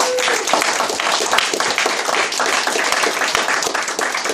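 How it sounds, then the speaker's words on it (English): Audience applause fills the room after a talk, a dense, steady wash of many hands clapping at close range for the whole stretch without letup. "Everyone, please give Tony a massive round of applause."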